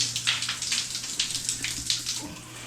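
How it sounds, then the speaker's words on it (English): Hot water runs from a shower in a newly finished house in the Philippines, a steady hiss of spray with a constant low hum beneath it. It sounds close and continuous throughout, with no talking. "I haven't had a mirroring hot water shower since I left Australia, so that's so nice."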